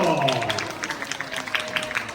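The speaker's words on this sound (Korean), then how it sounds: "신장님 환영의 박수로 환영해 주십시오" Brief burst of audience applause welcoming an official onstage at a sports club's season fan meet-up, dense clapping beneath a host's voice.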